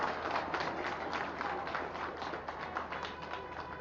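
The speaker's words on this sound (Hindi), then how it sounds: "और जरा तालियां बजा दीजिए" Applause from a large crowd at the opening ceremony of a police handball and basketball sports event, a continuous even wash of clapping somewhat distant, holding steady throughout.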